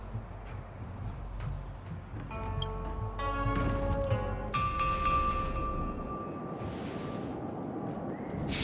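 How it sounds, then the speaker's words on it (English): A harmonic chime in the video game Honkai: Star Rail rings with layered bell-like tones that start softly, swell into sustained shimmering overtones, then fade, over a low rumbling ambience. "We could try ringing the harmonic chime."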